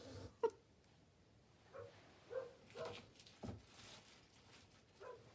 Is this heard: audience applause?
no